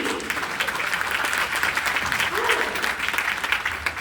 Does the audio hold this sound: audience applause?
yes